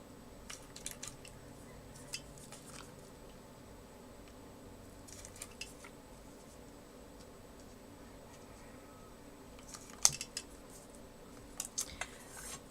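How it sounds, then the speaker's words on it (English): A Crocodile hole punch trimming along paper edges for a Halloween junk journal layout: faint, scattered snipping clicks and light taps in a quiet room. "I'm just going to do my best to cut along the edge with this hole punch"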